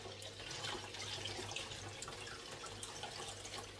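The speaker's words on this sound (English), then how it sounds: "I do like to give mine just a little bit of a rinse, just to get a little bit of the everything out of it" Tap water runs steadily into a sink as a hand-knitted garment is rinsed, a continuous close splashing flow with a low hum underneath.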